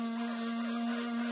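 A homemade CNC router built from DIY materials and low-tech tools runs with a steady motor whine and a constant tonal hum, unchanging and close, with no talking.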